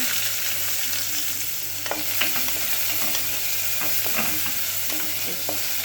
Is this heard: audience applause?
no